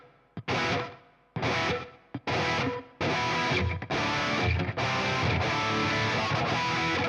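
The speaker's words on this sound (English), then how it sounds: "The left delay is set to a 16th note, which means it's a very fast delay." A distorted electric guitar plays through a fast 16th-note Boss digital delay, loud chopped chords starting and stopping, then sustaining into a dense wash of rapid repeats.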